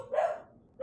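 A single dog bark rings out in the Ghosts of Tabor video game, one fairly loud yelp followed by a quiet gap and the start of a second bark at the very end.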